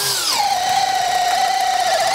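A Makita DHP481 brushless hammer drill in second gear drives a big auger bit into hardwood. The motor whines loud and steady throughout, with its pitch dropping slightly as the bit bites in.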